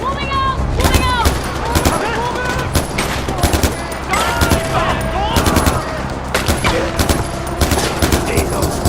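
Dense rapid bursts of automatic gunfire from a Far Cry 4 firefight, loud and near, crackling almost constantly with overlapping volleys while voices call out.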